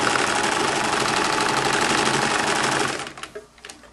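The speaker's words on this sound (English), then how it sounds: "And then I'm going to back stitch again at" A sewing machine runs steadily as it back stitches a seam in a knit T-shirt, a fast, even mechanical whir for about three seconds before it stops, followed by a few light handling sounds.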